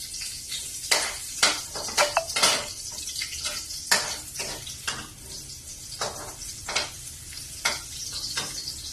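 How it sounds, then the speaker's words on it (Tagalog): Garlic sautéing in a wok while a utensil repeatedly scrapes and clinks against the pan, giving a steady sizzle with sharp metallic stirring hits, close and fairly loud, with no talking. "Ayan po, nag-isa ko na po yung bawang."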